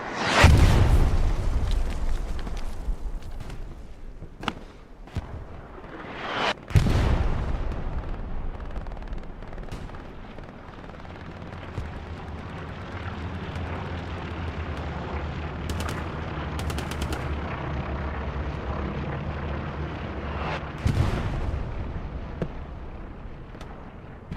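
Anti-tank weapons firing at a Panzer IV tank in the World War II shooter Hell Let Loose: heavy booming blasts at the start and midway, sparser sharp shots and a rumbling battlefield din between them.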